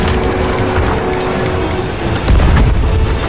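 Cannons fire during a battle against a skeleton ship in Sea of Thieves, with dense mechanical clattering and rumbling throughout and a heavy boom near the end, all close and loud.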